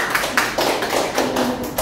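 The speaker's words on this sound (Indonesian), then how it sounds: "Beri tepuk tangan untuk kelompok 1." Applause in a classroom for a student group, a brief burst of scattered hand claps from several people, close and fairly loud, with little talk.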